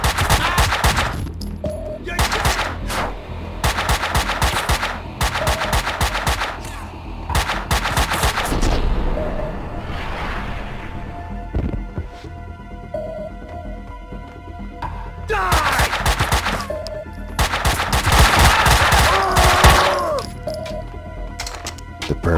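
Rapid bursts of gunfire in the video game Max Payne 2: loud clusters of shots and automatic fire, broken by short quieter gaps, with brief game voices between volleys.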